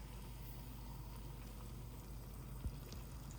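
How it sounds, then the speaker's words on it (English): Water is poured into an Immi spicy red miso instant noodle cup up to the fill line, a steady, quiet stream running for a few seconds. "So I'm pouring the water"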